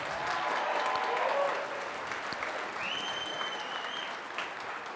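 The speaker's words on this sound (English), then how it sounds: "If you think Team 1's freeze game was the winner, you will clap for them" An audience at a church combo night applauds for a team in an improv game, a full burst of clapping that swells and then tapers, with a few scattered cheers near the end.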